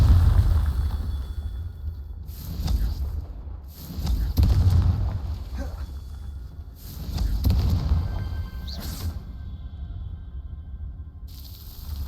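Repeated fiery spell blasts from Confringo casting in Hogwarts Legacy, booming bursts recurring every few seconds over low game rumble, with no talk.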